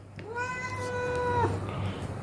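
A single cat meows, one long drawn-out call lasting over a second, close and clear against a low steady hum; one of a male and female pair of cats kept at home.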